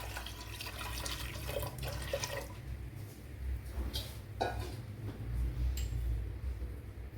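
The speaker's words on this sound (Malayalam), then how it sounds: "വേവാൻ ആവശ്യമായ വെള്ളം കൂടെ ചേർത്ത് കൊടുക്കുക" Water is added to a pot of moong dal with chopped onion for a Kerala-style cherupayar parippu curry. A soft, steady splashing and pouring wash runs throughout at close range, with a few small clinks mixed in.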